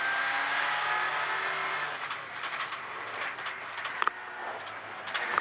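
Rally car racing flat out on a forest stage during an Australian Rally Championship event, engine note steady and loud at first, then fading as it passes close to the barriers, with brief sharp knocks near the end.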